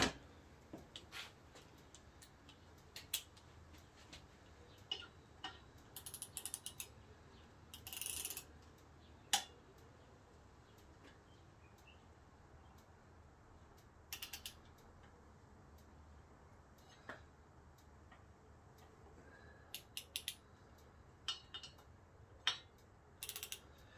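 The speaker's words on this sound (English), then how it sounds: "Now I'm just going to put this bit on the torque wrench." Torque wrench tightening a bolt on the rear brake of a BMW GS 800 motorcycle, producing quiet, sparse ratcheting clicks and short bursts of ticking against a faint, otherwise still background.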